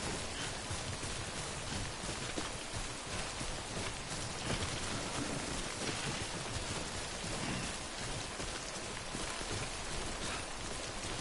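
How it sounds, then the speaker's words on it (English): Steady, dense rain pours down in the Death Stranding game world, a constant broadband hiss with scattered droplet ticks and no break across the whole stretch. "God, I sure wish it would stop raining."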